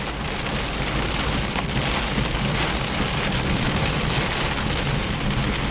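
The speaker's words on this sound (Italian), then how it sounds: "Finalmente piove come si deve." A storm's heavy downpour pounds a Fiat Panda as it drives through countryside roads, loud and unbroken rain hiss that fills the cabin without any talking.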